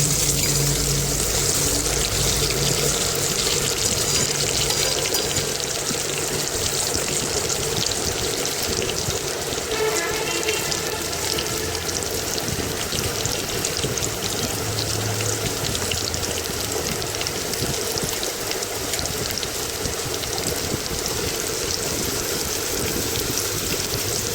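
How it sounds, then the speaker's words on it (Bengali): Diced potatoes frying in oil in a wok, a dense, continuous hiss of sizzling oil that holds steady and fairly loud for the whole stretch, with no voices. "এটি কড়াতে তেল দিয়েছি আমি দুটো আলুকে ডুমো ডুমো করে কেটে নিয়েছি এবার এই আলু দুটোকে আমি একটু ভেজে নেবো"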